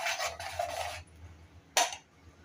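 A spoon scrapes and rubs through fish curry masala in a pan for about a second, followed by a single sharper scrape a moment later, close and fairly quiet with no voices.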